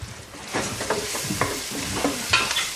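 Caramelised onions sizzle in oil in a pan, just before rice is added. Close scraping stir strokes break through the steady frying hiss.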